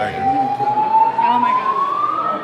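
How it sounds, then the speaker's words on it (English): A building fire alarm sounds steadily as a loud, continuous rising wail heard indoors, while people talk over it. "that's the fire alarm."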